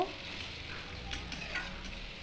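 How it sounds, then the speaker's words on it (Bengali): Spices, tomato and green chillies sauté in a pan for a homemade egg and potato curry, giving a steady close sizzle with faint scraping stirs and no talk. "এরপর চিড়ে রাখা কাঁচা লঙ্কাগুলো দিয়ে আরও 1 মিনিট ভালোভাবে মশলাগুলোকে কষিয়ে নেব"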